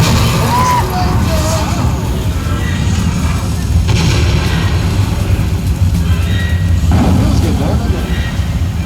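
On the Universal Studios Tour, the Jaws pier collapse effect gives loud, continuous rumbling and crashing with booming surges, heard close up under tram riders' chatter.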